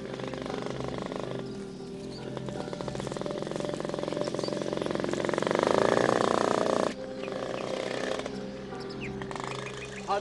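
A boat engine runs steadily with a low, throbbing drone at moderate loudness, briefly dipping partway through, and faint voices in the background.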